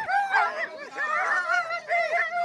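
Sled dogs in a forest yip, whine and bark eagerly before a race, with high, bending cries arriving in close, overlapping bursts, loud and near.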